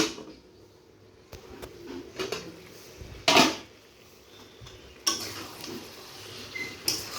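A metal lid lands on a cooking pot of fish curry with drumsticks, potato and mango, one sharp clang standing out among scattered clatter from nearby kitchenware.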